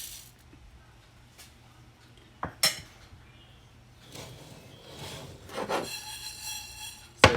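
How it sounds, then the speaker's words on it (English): Dry spices being stirred and dry roasted in a pan give a gritty scraping and rubbing, with occasional sharp clinks of a utensil on the metal, moderately close. "we are going to take these dry spices and we're going to dry roast in this pan for a couple of minutes"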